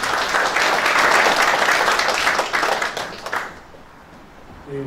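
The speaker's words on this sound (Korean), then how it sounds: "이석수 부지사님을 단상에 모실 때 따뜻한 박수 부탁드리겠습니다." A large audience at a peace ambassadors' council gathering in Gyeongbuk applauds warmly, a dense, loud burst of clapping that holds for a few seconds and then fades away as the room quiets.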